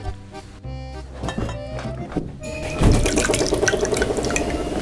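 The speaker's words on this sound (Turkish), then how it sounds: "Tamamdır şimdi de sirke dökelim." Vinegar is poured into water in a toy-play setting, giving a close, continuous splashing pour with dripping and liquid trickle that swells midway and runs steadily to the end.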